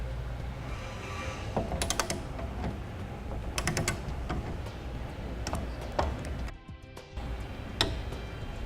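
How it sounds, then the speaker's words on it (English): A torque wrench tightens bolts on the base rails of a Thule TracRac SR sliding truck bed ladder rack on a 2015 truck, giving close, irregular ratcheting clicks in short bursts with a brief quiet gap. "we're going to go ahead and torque it down as specified in the instructions"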